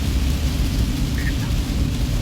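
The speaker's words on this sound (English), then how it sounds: "This rain is coming down real steady right now." Steady rain pours down on a highway while the car travels south, a dense, even hiss with no clear breaks.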